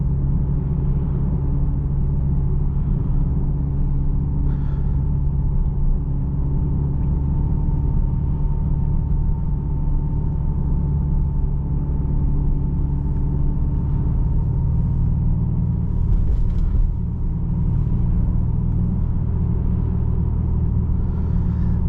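A 2026 Aston Martin DBX S cruising on a tight back road, its engine a steady, loud low rumble with a faint hum, heard from inside the cabin and continuous throughout.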